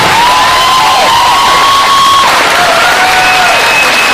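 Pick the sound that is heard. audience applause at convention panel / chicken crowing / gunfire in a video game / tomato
audience applause at convention panel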